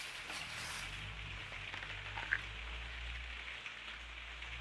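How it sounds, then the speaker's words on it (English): Rain falling outdoors, heard from inside as a faint, steady patter and hiss beneath a low room hum, with no talk. "You may be able to hear it's raining outside"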